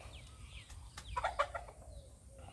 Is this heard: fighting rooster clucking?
yes